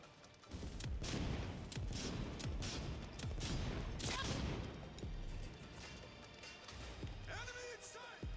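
Gunfire from a weapon in the video game Cyberpunk 2077: Phantom Liberty, a dense, loud run of rapid shots and impacts sustained for several seconds amid game noise, with a voice near the end.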